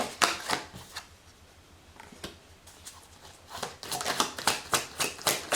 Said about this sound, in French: je vais couper encore avec le tarot